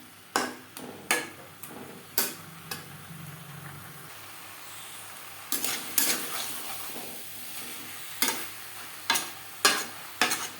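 Potato and tender young jackfruit sautéing with spices in a pan for a Bengali curry, with a steady low sizzle broken by repeated sharp scraping and clanking strokes of a spatula against the pan, loud and close.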